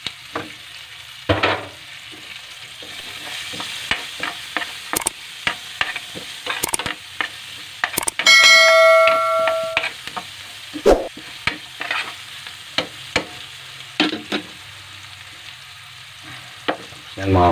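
Onions fry in a pan, stirred with repeated clinks and scrapes of a utensil over a soft, steady sizzle, with a brief ringing metallic tone partway through.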